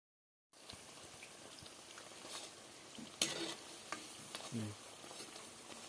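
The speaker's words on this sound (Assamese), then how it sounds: "এইখিনি এতিয়া মই ভালদৰে গোল্ডেন ব্ৰাউন নোহোৱালৈকে ভাজি ল'ম।" Namkeen dough pieces fry in hot refined oil, giving a steady, soft crackling sizzle. A few louder pops and stirring sounds break through the gentle background bubbling.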